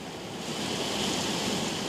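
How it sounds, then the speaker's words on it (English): Heavy rain pours outdoors as a dense, unbroken roar of hiss that swells slightly partway through, close and fairly loud, with no talking. "it's pouring with rain"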